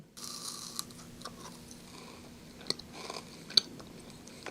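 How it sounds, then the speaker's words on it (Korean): Close, quiet chewing of a hard, marshmallow-like snack, with soft crunchy bites and a few sharper crackles against a faint background. "생각보다 되게 단단하고 엄청 딱딱한 마시멜로 먹는 느낌?"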